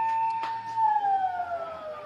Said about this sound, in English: there's the quarter time siren.